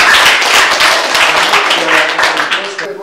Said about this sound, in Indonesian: aplaus dulu buat dia ya.